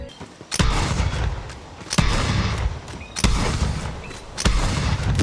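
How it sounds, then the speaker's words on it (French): Weapon fire in Borderlands 3 that plays Doom 2016-style heavy guitar riffs, with four loud, chugging bursts at a steady pace, each starting on a sharp hit and running into dense distorted noise. "quand vous tirez avec cette arme, elle fait le son des riffs de guitare de Doom 2016"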